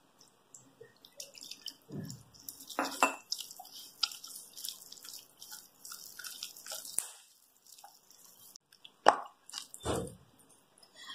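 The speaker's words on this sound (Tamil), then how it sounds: "இப்ப கொஞ்சமா தண்ணி சேர்த்துக்கலாம்." Water goes in small splashes into milk bun dough already kneaded with curd and gets worked in by hand, giving scattered drips and soft wet plops with quiet squishing gaps between them.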